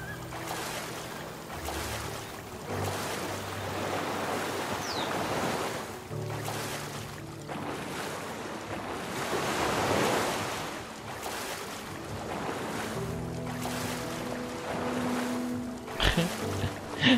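Ocean waves wash and surge around an island in the game Stranded Sails, swelling and receding in slow rolling cycles with wind noise and scattered game tones, no speech.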